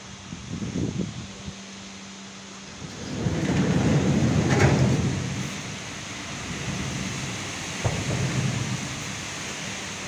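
Rain pours steadily on a farm while deep rumbling thunder rolls through, swelling loud midway, with gusting wind over a stormy background and no voices.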